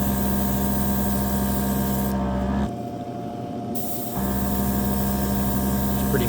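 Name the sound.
Gaahleri airbrush spraying matte paint on wheel rims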